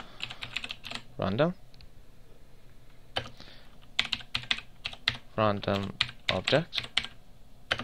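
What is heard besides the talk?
typing on a computer keyboard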